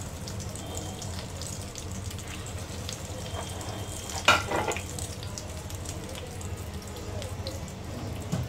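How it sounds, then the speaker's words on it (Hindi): Chutney kabab burger patties coated in bread crumbs fry in a pan over a slow flame, giving a soft, steady sizzle with one brief clatter partway through. "स्लो फ्लेम पे इनको फ्राई कर देंगे।"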